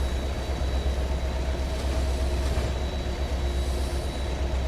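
A BNSF SD40 diesel locomotive running in the Trainz simulator, a steady low rumble of engine and rolling rail noise with a faint squeal, continuous and fairly loud with no talk.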